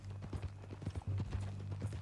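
Horse hooves clip-clop at a steady walking rhythm in the Western open-world game Red Dead Redemption 2. The footfalls are fairly quiet and nearby, with no talking over them.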